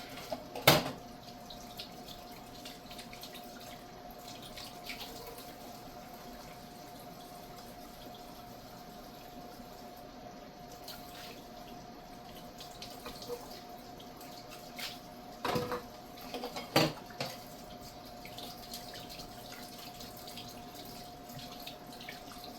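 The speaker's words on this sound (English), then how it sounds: "The first thing I do is run cold water." Cold water streams steadily from a tap into a sink, a constant rushing flow with a few clinks and knocks along the way.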